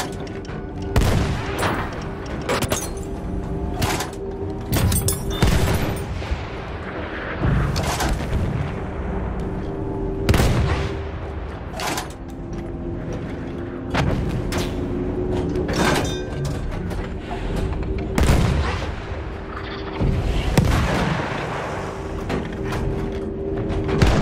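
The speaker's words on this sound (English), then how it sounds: "Artillery!" Repeated heavy booms of artillery fire in the video game Battlefield 1 on a destroyer map land at irregular intervals, loud and close, with sharp cracks rising over a constant low engine drone.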